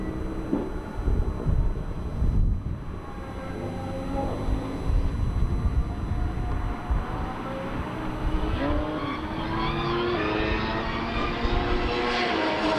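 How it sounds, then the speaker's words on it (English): A camera drone flies at a Formula 1 track test session, giving a whining, pitch-shifting buzz. It mixes with passing engine noise at moderate loudness, with no speech. "That's the drone that Red Bull were using for that drone video."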